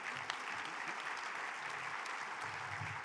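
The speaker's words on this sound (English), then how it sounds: "Yes, you can clap for that." A church gathering's audience claps in steady, dense applause at a commissioning service for church planters, an even wash of many hands that holds its level for a few seconds with no voices over it.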